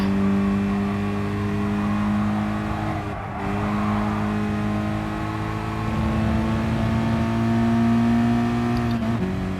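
Race car engine in Gran Turismo Sport, driven around a track with traction control off, drones steadily and loudly throughout, its pitch rising and falling through gear changes with a brief dip near the middle.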